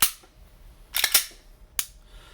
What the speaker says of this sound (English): you can hear a Glock trigger